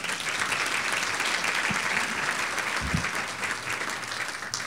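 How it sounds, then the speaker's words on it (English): Steady audience applause at a professional association meeting, dense and even, with a faint low thump or two beneath the sustained clapping. "Let's give her a round of applause."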